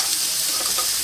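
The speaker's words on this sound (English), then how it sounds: "Now it's time to flip the steak." Steak sizzling on a hot barbecue grill just after being flipped, a steady, bright hiss that holds evenly through the short moment with no voices.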